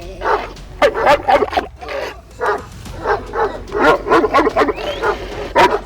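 A dog barks repeatedly in sharp, yappy bursts, mixed with whimpers and yips, loud and close.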